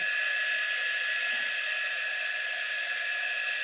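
A hair dryer blows steadily on stencil paste over a painted sign, a continuous close whooshing hum with a bright whine, constant and alone without pauses.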